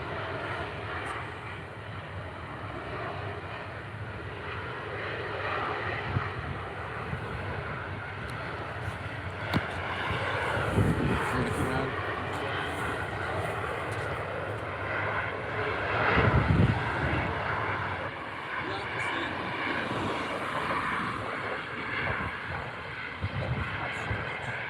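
EasyJet jet airliner at Newcastle airport, a loud sustained engine roar that swells and fades across the clip, with wind buffeting the microphone.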